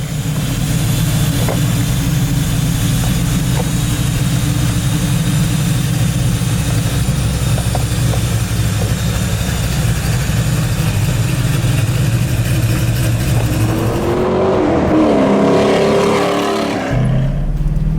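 A 1965 Fastback Mustang pro-touring build rumbles steadily at low revs, a deep continuous engine drone under way, then a brief rev rises and falls near the end.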